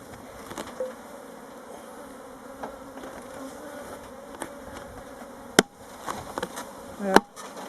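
Honeybee swarm buzzing as the bees are shaken out of a nucleus hive into a hive roof, a soft steady hum with a few sharp knocks and thuds from the wooden boxes.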